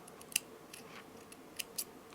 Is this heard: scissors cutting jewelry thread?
yes